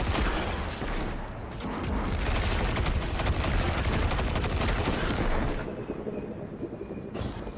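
Sustained gunfire in Destiny 2's Edge of Fate content, dense crackling shots filling most of the stretch with a heavy low rumble, then thinning near the end.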